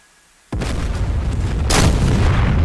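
Missile strike explosions in the DCS World AV-8B Harrier flight simulator game: a sudden loud, rumbling blast, then a second heavier blast about a second later, with a continuous roar afterward.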